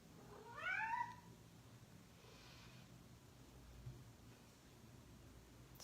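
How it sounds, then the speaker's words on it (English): One short, rising meow from a cat near the start, then only quiet room noise and faint breathing. "We'll just ignore the meows."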